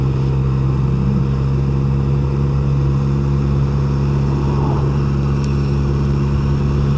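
A QJMotor SRK 921 RR motorcycle cruising steadily in sixth gear at around 40 mph, its engine droning in an even, continuous hum with steady wind rush, close and loud with no voices.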